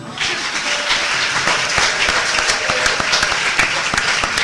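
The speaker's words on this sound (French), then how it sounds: "Est-ce qu'on peut l'applaudir?" An audience at a French-language conference applauds a young speaker, with dense, steady clapping at full volume through the whole stretch and a few sharper individual claps standing out.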